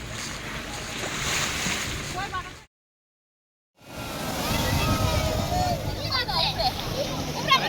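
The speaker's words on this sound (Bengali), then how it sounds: "এখানে ঢেউগুলো খুব বেশি হয়" Ocean surf rolls in at Butterfly Beach in South Goa, a steady rushing wash mixed with wind buffeting the microphone, broken by a brief full silence before the waves resume.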